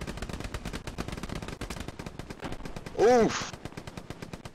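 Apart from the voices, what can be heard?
M1 rifle gunfire in a video game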